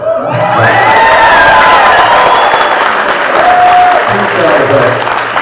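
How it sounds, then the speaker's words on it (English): Convention audience applauding and cheering at a live script reading event, a loud, dense wash of clapping with shouts that holds steady throughout, with a voice speaking over it. "That's where you applaud."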